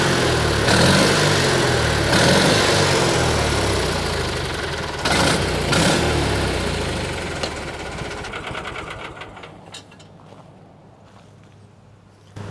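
An Argo amphibious ATV engine idling low after a fuel system repair, a steady, loud mechanical putter with a rhythmic knock that gradually fades and thins out toward the end.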